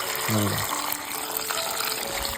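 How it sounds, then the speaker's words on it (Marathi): Freshly gathered kokum fruit being washed in water, with a continuous splashing, gushing wash close by and a voice speaking briefly over it. "आता ह्याच्यामध्ये ना आपण पाणी घालून सर्व धुवून घेतोय"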